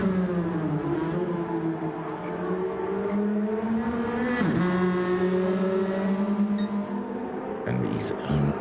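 Race car engine in a sim racing game lapping a circuit, sustained high revs rising and falling through gear changes, with a sharp downshift and braking dip midway, loud and close throughout.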